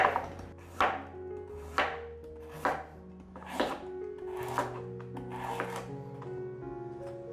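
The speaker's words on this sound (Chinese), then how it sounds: "把红萝卜切片，" A knife slicing peeled carrots on a board, about eight crisp, evenly spaced chops, close and distinct against a quiet background.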